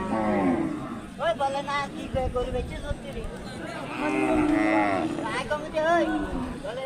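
Cattle low repeatedly at an Indian border cattle market, several drawn-out moos rising and falling close by amid the murmur of people talking in the background.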